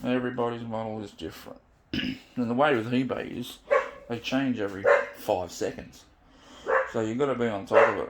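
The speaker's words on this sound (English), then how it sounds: "That's just my dog" A dog barks in short, intermittent bursts while someone talks continuously nearby, the barking partly buried under his voice.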